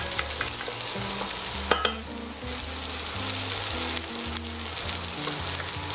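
Onion sweating slowly in a pan over low heat, a gentle continuous sizzle with occasional scraping stirs from a utensil, close by with no talking.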